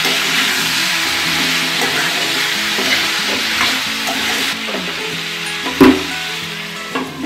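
Pumpkin sabzi with cumin powder, salt and spices stirred in a pan, a steady scraping and sizzling that runs throughout, with a sharper knock of the utensil near the end.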